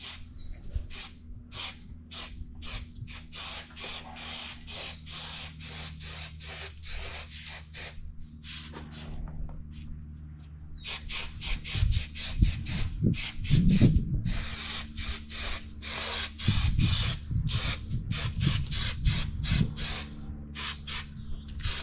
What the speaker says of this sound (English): Careful when you're spraying,